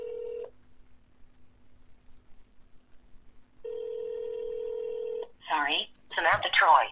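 A telephone call to an observatory: a short tone, a pause, then a long, steady electronic ringing tone, followed by a voice speaking over the line.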